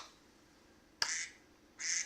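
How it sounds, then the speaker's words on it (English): A duck gives two short, nasal quacks about a second apart, close and moderately loud over quiet room background, with no talking. "The duck sounds killing me."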